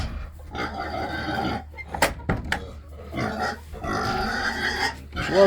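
Pigs on a family farm grunt and snuffle at feeding time, a string of close, rough grunts in bursts across the clip with brief pauses between.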